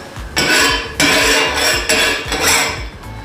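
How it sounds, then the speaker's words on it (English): A spatula scrapes and clanks against a hot, oiled frying pan while it spreads the oil. There are several loud, close bursts of metal-on-metal scraping, each followed by a softer rattle, and no voices. "you just want to move the oil around on the pan so it's covering the whole"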